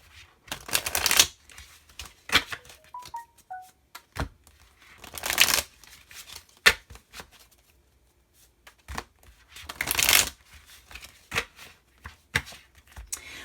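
A deck of tarot cards shuffled by hand in bursts, riffles and soft slaps spread across the stretch with quiet gaps between them, close and fairly loud, with no talking.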